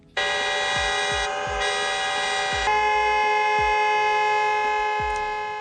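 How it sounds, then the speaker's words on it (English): A long, loud blaring horn tone sounds in commemoration of victims, held steady with a shift partway through, while low thumping pulses repeat underneath; no talk. "Car horns and air raid sirens sounded the moment when people commemorated the"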